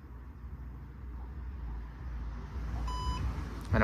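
Traffic noise rises steadily, then a short, low-pitched electronic beep from a JLR DoIP vehicle diagnostic interface sounds near the end, followed by a brief louder burst.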